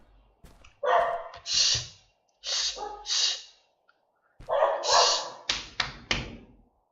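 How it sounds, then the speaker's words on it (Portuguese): A pet dog at home barks in a series of short, muffled bursts, some paired and some in quick succession, heard at moderate distance with brief pauses between. "Meu cachorro tá latindo."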